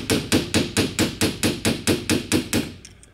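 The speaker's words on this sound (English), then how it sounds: "I have a hammer and a screwdriver. And it works very slowly." A hammer strikes a screwdriver in about eleven sharp, evenly spaced metallic blows, close and loud, then stops and the ringing dies away.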